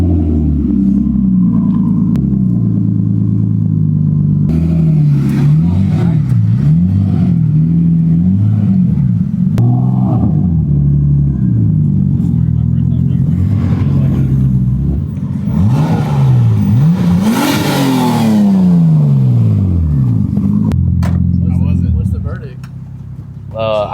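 A Nissan R33 Skyline on a test drive, its engine rumbling and revving up and down through repeated rising sweeps, loud and close from inside the car, with occasional voices over it.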